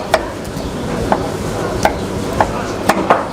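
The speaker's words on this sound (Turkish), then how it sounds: "Kaşar doğruyoruz" A knife chops kashar cheese on a board for dolma, sharp distinct thuds about six over a few seconds in an uneven rhythm, close and loud with a faint background hum.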